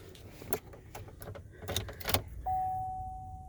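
Key turning in the ignition of a 2020 Chevy 3500 Duramax work truck: a few clicks and key jangles in a quiet cab, then a steady electronic chime tone begins and holds to the end.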